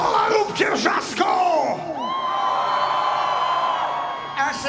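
Concert crowd at a show during the 2017 WOŚP charity finale in Warsaw, loud sustained screaming, whooping and cheering rising out of shouts and holding strong for several seconds.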